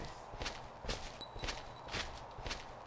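Soft video game footsteps plod along at a steady pace, about one step every half second, fairly quiet against a faint background hiss.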